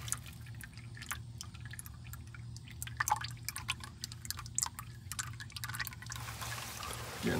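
Engine oil drains from a 7.3 diesel into a drain pan, a close, steady patter of drips and trickling liquid over a low background hum.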